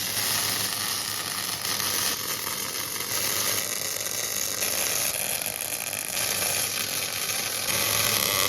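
Steel being arc welded on a large homemade log splitter, a steady crackling sizzle with hiss that holds at an even level throughout, close and continuous with no talk.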